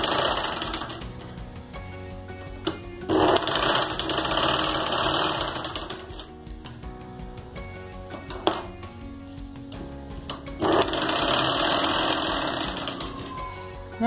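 A sewing machine stitching vertical lines on a fabric make-up brush pouch runs in a loud, steady mechanical whir, with long bursts of stitching separated by short pauses and occasional metallic clinks, no voices.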